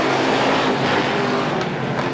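Stock cars racing at Star Speedway roar in a loud, continuous engine drone, several cars running close together with no break in the noise.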